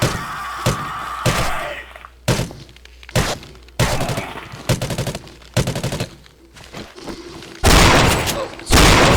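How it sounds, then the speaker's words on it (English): Machine gun fire in the video game 7 Days to Die comes as several loud, sharp bursts spaced by brief pauses, close and dominant, with a longer sustained burst near the end. "Let's try this machine gun here."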